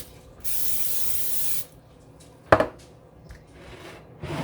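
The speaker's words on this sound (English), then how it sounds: "We're going to spray our pan again." Cooking spray hisses steadily from a can onto a waffle pan for about a second. A sharp clatter of the pan follows, then quieter knocks in a home kitchen.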